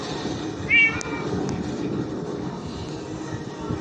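A street cat in Manila gives a single short, clear meow early on, heard over a steady background rumble of outdoor noise.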